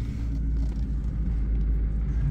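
A Proton Saga with a 1.5 Mitsubishi engine, back running after eight years off the road, idles with a steady low rumble that carries through the whole stretch, with no other sounds over it.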